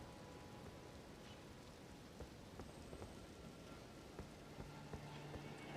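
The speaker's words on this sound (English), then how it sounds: "it's wet and rainy" Steady rain falls across a wet, desolate southern coastline in the Elden Ring video game, a constant hiss with scattered droplet taps, quiet and unbroken with no voices.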